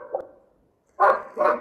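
A dog barks twice in quick succession, loud and close, after a faint yelp at the start, with no talk over it.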